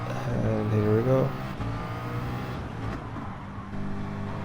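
Race car engine in Gran Turismo 7, a steady, moderately loud drone that rises and falls slightly in pitch as the car drives on, while a person talks over it at the start.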